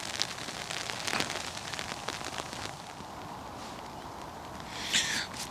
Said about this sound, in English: it's not rain, it's hail.